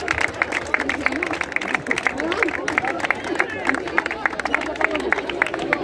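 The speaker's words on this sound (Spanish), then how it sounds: "Un aplauso." Crowd applause at a town festival proclamation in Nueva Segovia, steady clapping from a gathered audience with chatter and a voice over it, fairly close and lively throughout.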